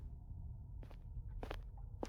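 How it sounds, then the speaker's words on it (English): Footsteps in a castle video game, three or four distinct steps landing at uneven intervals, faint against a low steady background hum, with no talking. "Footsteps."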